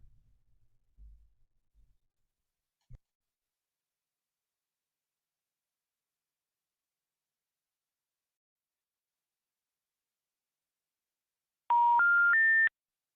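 Three rising keypad tones ring out in quick succession near the end, loud and alone, like buttons pressed on a telephone during an automated call. Faint low thumps come earlier, followed by long silence.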